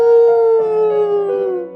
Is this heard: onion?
no